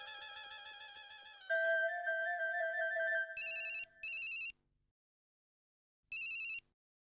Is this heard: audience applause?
no